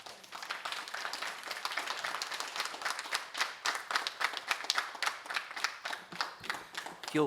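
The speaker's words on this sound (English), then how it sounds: "If you'll please hold your applause" Scattered audience applause at a school board meeting, a crowd of hands clapping unevenly with distinct sharp claps, moderately distant and fading toward the end.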